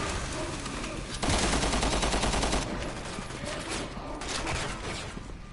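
A video-game grenade launcher fires amid continuous rapid gunfire and explosive bursts, loud and dense throughout, with a heavier blast section early on and no clear talking.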